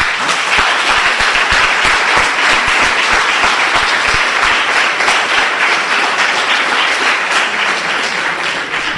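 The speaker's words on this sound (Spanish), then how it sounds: "Eso se merece un aplauso." A church audience at a talk on Marian dogmas bursts into loud, sustained applause, a thick continuous wash of many hands clapping close and even throughout.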